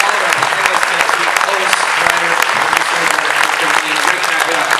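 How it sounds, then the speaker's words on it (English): Audience applause at a community event in Oxnard, dense and loud, continuous clapping from a close crowd throughout. "One more big round of applause for you guys"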